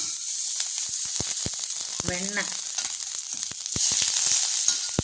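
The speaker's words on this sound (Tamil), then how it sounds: "வெண்ணெய் உருகினதும் வெங்காயத்தை வதக்க ஆரம்பிச்சிடலாம்." Butter sizzles and crackles steadily in a hot pan, with scattered sharp pops and a brief squeak midway.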